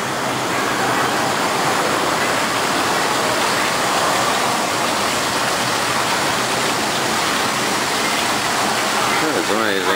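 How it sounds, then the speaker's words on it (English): Water rushes steadily from a waterfall as a loud, constant roar that runs the whole time, with people's voices faintly mixed in. "no, that's water."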